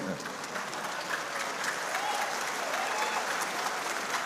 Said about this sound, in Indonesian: tepuk tangannya keras tambahi